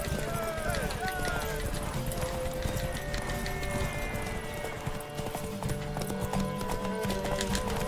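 Roach, Geralt's horse in The Witcher 3, gallops with steady rapid hoofbeats that carry through the whole stretch, mixed with game music and voices.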